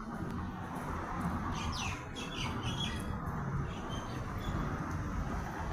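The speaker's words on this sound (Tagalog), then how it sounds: "Ang daming ibon." Many birds calling at Souk Waqif, a market square in Doha, with several squawks and chirps rising over a constant loud background roar of the outdoor crowd and traffic.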